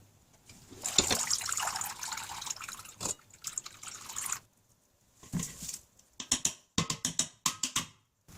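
Hot water pours over malt during homebrew beer making, a steady splashing stream for several seconds, then a pause followed by shorter bursts of pouring and trickling, close and clear with no talk.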